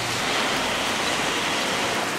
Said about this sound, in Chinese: 今天老家狂风暴雨